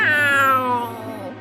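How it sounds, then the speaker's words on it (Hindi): A big, scary cartoon cat lets out a single loud meow that falls in pitch and trails off, heard alone with no talk. "रास्ते में उन्हें एक बड़ी सी डरावनी सी बिल्ली मिल गई।"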